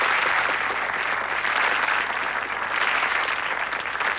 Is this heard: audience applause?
yes